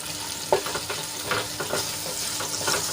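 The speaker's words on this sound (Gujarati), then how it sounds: "આપણું લસણ સરસ રીતે તેલમાં સંતળાઈ ગયું છે" Garlic sautéing in hot oil for a Kathiyawadi garlic curry, giving a steady close sizzle with scattered crackles and occasional stirring scrapes, no talking.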